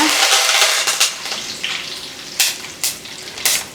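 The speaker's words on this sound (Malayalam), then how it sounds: "എണ്ണ നന്നായിട്ട് ചൂടായിട്ടുണ്ട്. ഇതിലേക്ക് 1 സ്പൂൺ കടുക്, കുറച്ച് കറിവേപ്പില" Mustard seeds and curry leaves hit hot oil for a pineapple theeyal, giving a bright crackling sizzle with several sharp spattering bursts close by.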